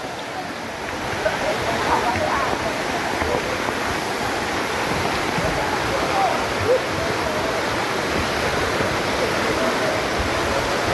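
Daranak Falls, a waterfall where people are swimming, pours as a steady, loud broadband roar of falling water that runs unbroken from start to finish and sits close by.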